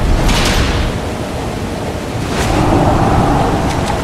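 A waterfall in the video game Darksiders Warmastered Edition gives a steady, loud broadband rush of falling water, continuous with slight swells and no talk.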